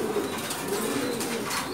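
Japanese line pigeons in a breeding loft give a continuous, dense cooing murmur against a noisy hiss, several birds overlapping close by without any break.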